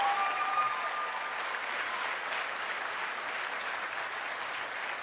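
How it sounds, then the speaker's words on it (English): A live seminar audience in Las Vegas applauds steadily for about five seconds, a dense, even wash of many hands clapping with no voices on top. "Give yourselves a round of applause."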